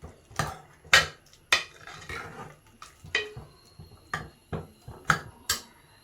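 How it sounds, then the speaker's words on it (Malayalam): Taro seeds are being crushed with a metal spoon inside a pot of papaya curry, giving a run of about ten sharp knocks and clinks in a loose rhythm, close up with no speech. "നമുക്ക് ഈ ചേമ്പിൻ്റെ വിത്തൊന്ന് ചെറുതായിട്ട് ഉടയ്ക്കണം."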